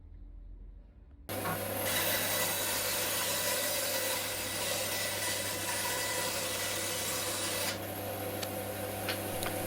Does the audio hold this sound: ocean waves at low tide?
no